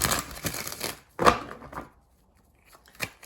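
Tarot cards are shuffled by hand in several quick riffling, rustling bursts, close by, separated by short silences.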